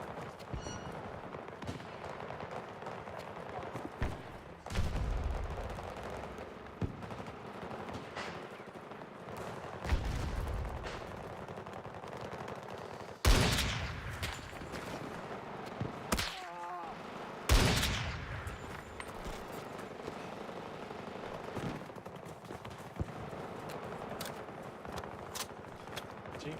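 Video game gunfire in Battlefield, with several loud, sharp bursts and single shots standing out over constant background battle noise and distant firing.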